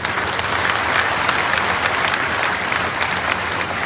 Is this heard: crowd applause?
yes